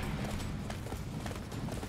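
Rapid clip-clop of horse hooves galloping in the Attack on Titan Wings of Freedom video game, a steady close rhythm of hoofbeats over a dense game soundscape.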